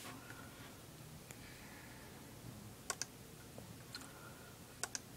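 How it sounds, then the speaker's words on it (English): Sparse, irregular clicks of typing on a computer keyboard, a handful of sharp keystrokes spread over several seconds against a quiet room hum, with no talking. "Let's type in"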